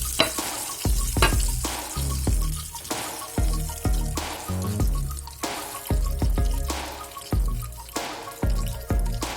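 Liver deep-frying in oil over medium heat, a loud, crackling sizzle broken by repeated sharp bursts and splashes as pieces are stirred, with no voices.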